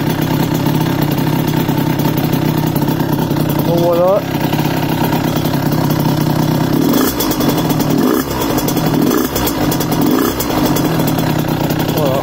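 A cold Derbi DRD Limited 2005 motorcycle with a 77cc Stage6 kit idles through its exhaust, chugging unevenly with brief blips, close and loud, while someone talks over it.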